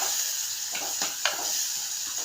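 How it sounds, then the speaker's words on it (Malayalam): Prawns, green chili and shallots sauté in a hot pan with a steady sizzle, while a few scraping stirs pass through at a close, moderate level. "പച്ചമുളക്, കൊച്ചുള്ളി എല്ലാം ഒന്ന് വഴറ്റി"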